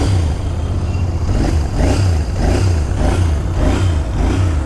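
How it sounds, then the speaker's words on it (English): Royal Enfield Interceptor 650 BS6 parallel-twin motorcycle engine revving on the move, a steady low droning hum with rhythmic surges of throttle rising and falling every half second or so, close and continuous throughout. "Okay, engine sounds refined."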